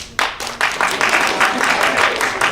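An improv show audience cheers and claps loudly. The crowd noise keeps up for a couple of seconds as a dense, steady wash of whoops and applause.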